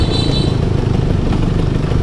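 A Vespa P150SE Strada scooter engine runs steadily nearby at high revs, a loud, dense, continuous buzz with a slight vibrating texture and no pauses or talk.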